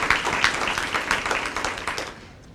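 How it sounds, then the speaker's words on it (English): An audience at a realtors' association breakfast bursts into dense, sustained applause of many overlapping claps that holds steady and then fades out toward the end. "Give yourselves a round of applause"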